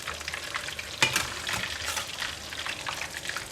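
A whole seabass fries in hot oil, a dense close bubbling sizzle with crackles and small spattering pops, one louder burst near the start.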